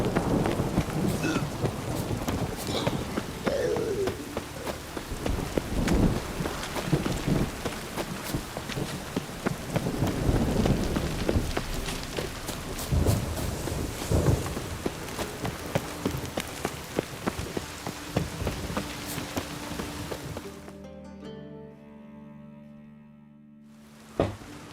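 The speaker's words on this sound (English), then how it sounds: "Rain again." Steady rain patters and hisses for a long stretch with low rumbles of thunder underneath, then suddenly drops away to near quiet.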